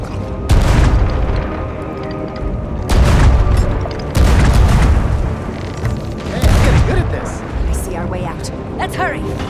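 Ship cannons in the Sea of Thieves video game, during the Legend of Monkey Island raid on LeChuck's lair, fire in heavy booming volleys, four loud blasts spread over several seconds with rumbling tails and battle noise between.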